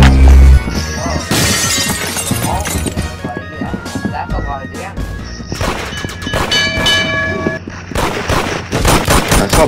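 Pistol gunfire in a video game: rapid shots and sharp metallic clangs and shattering hits crowd a loud, busy game mix, with a voice talking through parts of it.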